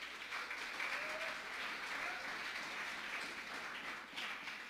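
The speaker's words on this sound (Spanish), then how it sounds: "Dale un aplauso a Yahweh." A church congregation breaks into steady, sustained applause, a dense wash of many hands clapping at moderate distance with a slight dip near the end.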